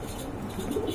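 A pair of Danish pigeons gives low soft cooing in a continuous murmur, a faint chirp rising near the end, heard close with no talking.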